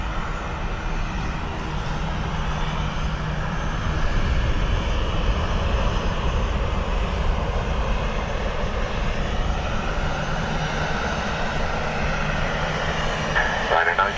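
Ryanair airliner arriving at Dublin Airport in crosswinds, a loud continuous engine roar and rumble that strengthens partway through, with talk over it.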